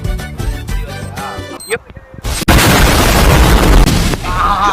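Gunfire in the Free Fire battle game arrives as a sudden loud burst that becomes a dense, sustained roar of shots, preceded by game music and effects.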